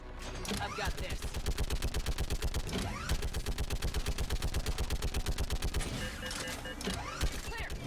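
Rocket troopers in the video game Mass Effect 3 fire rapid automatic gunfire, dense bursts of sharp repeated shots at a steady fast rhythm, loud and continuous with brief pauses, with some whooshing effects and no talk over it.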